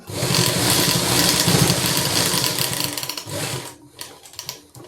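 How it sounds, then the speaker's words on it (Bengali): A sewing machine stitches a zipper onto a jacket, a loud close rapid whirring run of stitching that slows and breaks into short bursts near the end. "তার ক্ষেত্রে আমি এইভাবে সেলাই করে নিচ্ছি"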